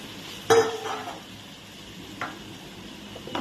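Boiled potatoes drop into onions frying in an iron kadai with a soft thud, followed by a low sizzle, light scraping and a few small clinks nearby.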